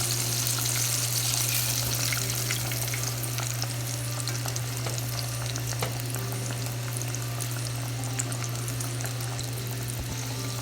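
Tempura shrimp and vegetables coated in egg and flour deep-fry in hot oil, giving a continuous, even sizzle and crackle with small pops, steady and close throughout with no talking.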